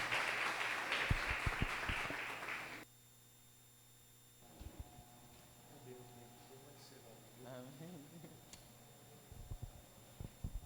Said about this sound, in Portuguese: aplauda ao Senhor pela vida do nosso irmão